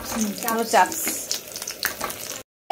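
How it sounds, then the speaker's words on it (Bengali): Cauliflower pieces frying in hot oil make a crackling sizzle that rises and falls, partly under a voice talking in a home kitchen, before the sound cuts out. "তাহলে বোধহয় তেল গরম হয়ে গেছে, ফুলকপিগুলো ছাইড়া দিলুম।"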